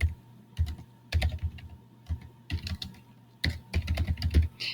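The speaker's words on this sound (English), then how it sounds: "I am going to type in my topic." Typing on a computer keyboard, quiet and close, in short bursts of rapid key clicks separated by brief pauses, with no talking.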